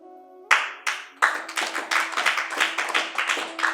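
Hands clap sharply and close by, a few separate claps at first, then a quicker run of claps continuing to the end, during a quiet spiritual teaching session.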